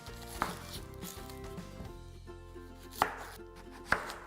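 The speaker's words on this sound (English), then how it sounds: "For the salad, I'm gonna take only half an onion, thinly slice it" A knife thinly slices half an onion on a cutting board, a quick run of crisp chops followed by a few sharper, louder cuts, close and unaccompanied by speech.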